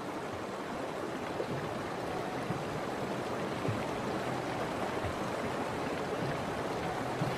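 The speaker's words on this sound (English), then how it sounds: "But the waters are cold and fast." Cold, fast river water as bison calves cross: a continuous broadband rush of flowing water, steady and fairly loud throughout, with no voices.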